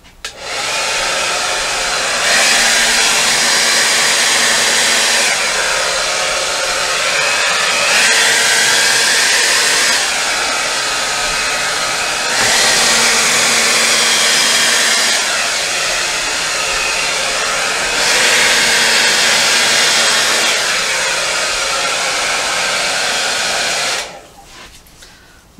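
A hair dryer blows out acrylic paint in a Dutch pour, a loud steady whoosh that surges and drops in several long waves as it is moved, then cuts off abruptly at the end.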